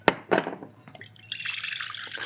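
Soaked soy curls are poured into a strainer to drain, two sharp wet splats followed by a steady trickle of water running off.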